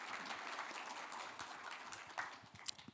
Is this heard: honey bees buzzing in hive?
no